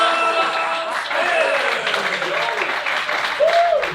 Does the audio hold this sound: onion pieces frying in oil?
no